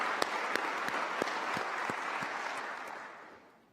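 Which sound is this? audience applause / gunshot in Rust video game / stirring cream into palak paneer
audience applause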